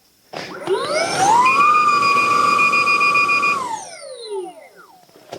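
A Lynx snowmobile's track free-spinning on a lift with a new tubeless tire, its whine climbing steeply, holding a loud steady pitch for about two seconds, then winding down.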